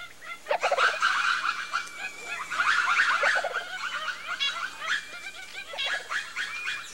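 Ring-tailed lemurs give a dense chorus of loud, overlapping yelping alarm calls at a hawk in a forest, the barks repeating throughout.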